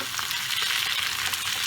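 Onion stalks fry hard in a pan with little oil left, giving a dense, steady sizzle close up with no voices.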